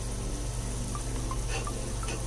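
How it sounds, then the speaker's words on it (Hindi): A cup of water pours into a pot of cooking khichdi with dal and chicken, a steady liquid rush over a constant low background hum, no voices. "1 कप पानी डाल के और 10 मिनट के लिए गला दूंगी।"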